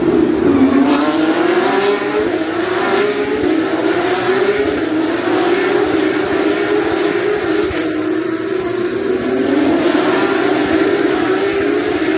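Formula 1 race cars roar loudly around the Marina Bay street circuit at the Singapore Grand Prix, a continuous high-pitched engine scream rising in pitch under acceleration, close and dominant throughout.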